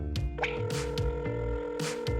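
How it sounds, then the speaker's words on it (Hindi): A telephone rings repeatedly in a steady tonal pattern with no one picking up, close and clear, with no voices over it. "मैंने कैट नोआर को फोन किया,"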